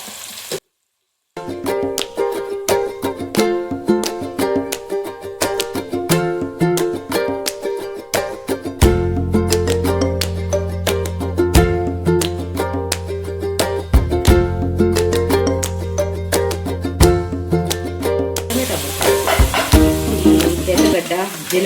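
Tomatoes with salt and turmeric fry for a fish curry (chepala pulusu), a steady sizzle with stirring beneath fairly loud background music that runs throughout.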